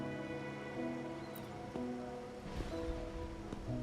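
Steady, soft rain patters in a video game world, a quiet even hiss with a few faint drops and a low droning hum beneath, no voices.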